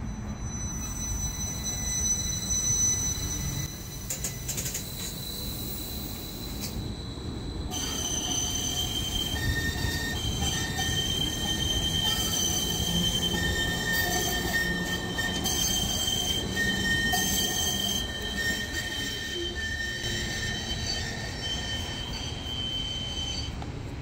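A metro train runs through Eyüp Sultan station in Istanbul, its wheels squealing in long, high, sustained tones over a steady rumbling roll, loud and close throughout.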